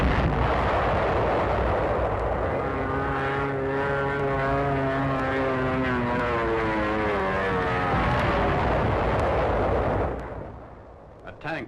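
A WWII tank of the 2nd Armored Division fires its gun during the 9th Army's drive to the Rhine, a loud sustained roar of battle noise with engine-like droning tones running steadily throughout, then dropping away near the end.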